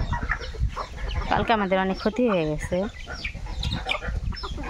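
Chickens cluck on a farm, a clear run of rhythmic clucks rising in the middle, heard near and loud amid someone speaking and background noise.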